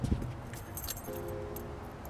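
Car keys jangle close by, beside a 1987 Buick Grand National turbo, in a quick metallic burst at the start that fades under a steady low engine-like hum.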